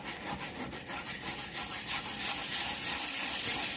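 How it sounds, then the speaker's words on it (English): Wet sanding a 3D printed clone trooper helmet by hand, a close, quiet, rhythmic rasping rub with repeated back-and-forth strokes and no voices. "using this wet sanding technique here at this step"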